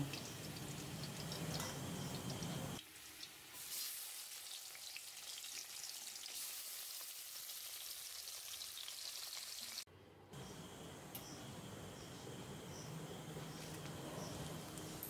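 Koi fish fry in mustard oil in a pan with a steady, soft crackling sizzle that continues throughout, with occasional small ticks and pops and a couple of brief dips in level.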